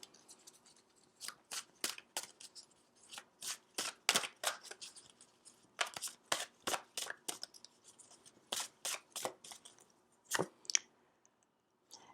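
Cards shuffled and handled during a tarot-style reflection card reading, with a run of crisp, rapid riffling bursts and flicks that start and stop repeatedly, close and fairly quiet, with no voice.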